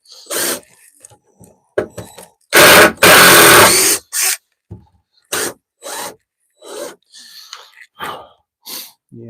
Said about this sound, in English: Remove some screws here in order to get stuff loose.